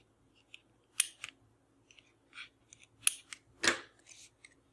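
Scissors trim small pieces of paper card for a handmade Spirelli-ornament Christmas card, a few crisp separate snips close up with quiet gaps between them.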